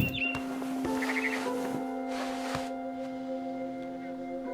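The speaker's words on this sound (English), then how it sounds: "Then I heard chirping outside my window. It was a barn swallow going back to her nest." Brief, high barn swallow chirps from a video game sound over a steady electronic hum and soft ambient tones, faint and somewhat distant.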